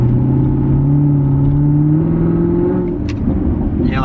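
6th gen Chevrolet Camaro launching from a standstill, the engine droning loud and close with a rising revving tone that climbs steadily, then dips briefly near the end.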